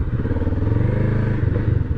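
Kawasaki Vulcan S 650 motorcycle engine running close by with a steady throbbing idle that swells into a short rev near the end, heard alone without talk.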